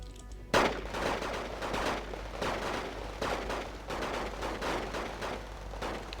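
Infantry small-arms gunfire in the war strategy game Wargame Red Dragon, one sharp report opening a steady crackling barrage of overlapping shots that keeps going throughout.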